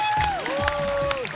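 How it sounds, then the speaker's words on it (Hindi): Loud audience applause at a live taping of The Kapil Sharma Show, a Hindi comedy talk show, with a brief, dense burst of claps and crowd noise overlaid by a gliding tonal sound. "जोरदार तालियां हो जाए सबके लिए"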